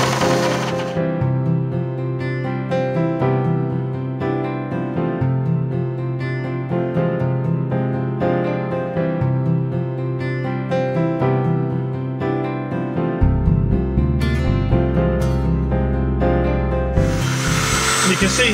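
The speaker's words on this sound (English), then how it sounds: "Got the tool set on its lowest speed. I don't want to burn the wood, I just want to grind it away" A rotary tool set to its lowest speed grinds gently into a wooden pomander, producing a steady close whine with a hum that shifts pitch as the bit bears into the wood, deepening near the end.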